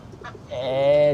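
Farm chickens cluck close by, with a few short calls followed by a longer, louder drawn-out cackle that rises toward the end.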